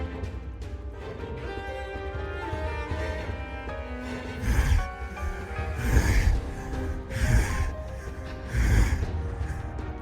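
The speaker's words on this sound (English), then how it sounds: "He's breathing through the mouth on his stomach as well." A large creature from Infinity Strash Dragon Quest breathes through a mouth on its stomach, heaving raspy gasps that come in four loud, rhythmic bursts over a sustained musical backdrop.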